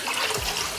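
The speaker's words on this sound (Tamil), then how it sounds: "தண்ணி ஊற்றி ஊற வச்சிடலாங்க" Water poured onto washed rice and lentils for pongal, a brief, close splashing trickle into a vessel.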